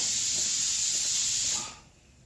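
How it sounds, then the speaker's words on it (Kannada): A pressure cooker whistle releases steam as a loud, close, steady hiss that holds for about a second and a half, then fades quickly away. "ನೋಡಿ ಒಂದು ವಿಸಿಲ್ ಬಂದ್ಬಿಟ್ಟಿದೆ"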